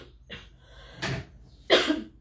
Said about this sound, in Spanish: Que me da ahora la tos.